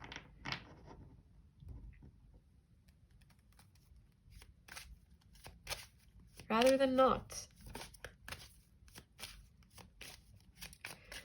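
A deck of tarot cards is shuffled close up, with soft riffles and taps scattered through and one louder burst of flicking cards near the middle, under a faint speaking voice.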